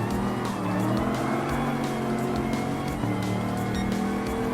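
A Camaro Z28 muscle car races at Willow Springs in Gran Turismo Sport, its engine droning loud and steady with shifting revs and brief tire squeal.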